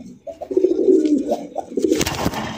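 Rasgolla pigeons coo in close, throaty rolling calls, a few overlapping phrases, ending in rustling and scuffling noise as the birds are handled.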